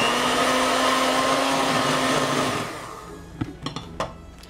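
An electric mixer beats a flour mixture for aebleskiver batter with lemon peel, a loud steady whir for over two seconds before it stops. A few clattering knocks follow, like the beaters tapping against a bowl.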